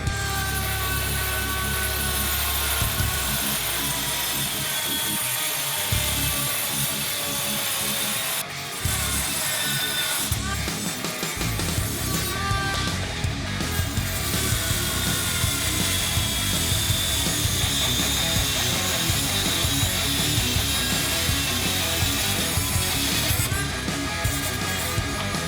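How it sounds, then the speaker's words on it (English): A Dremel rotary tool with a metal cutting bit grinds down an aquarium lid, a continuous loud whine with rattling, chattering bursts and a brief pause partway through. "So I had to cut it down with a metal Dremel bit."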